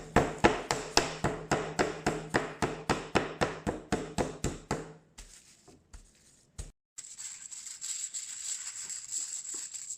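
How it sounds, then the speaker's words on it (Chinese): Raw chicken breast is pounded thin with a wooden mallet: about twenty evenly spaced, sharp thuds in a steady rhythm, close and clear, then a few scattered knocks and a quieter rustling stretch. "然后如果有那个木锤就好多了，就很使得上劲儿，就把它敲薄了就行了"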